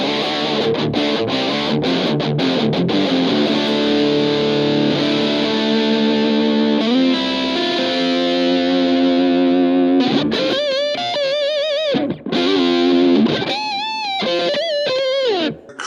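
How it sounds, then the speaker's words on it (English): A heavily distorted electric guitar through a Positive Grid Spark Go modeling an American high-gain amp, with compressor and reverb, plays sustained chords and then fast lead lines, loud and saturated with a gated, compressed tone. "some kind of American high gain amp"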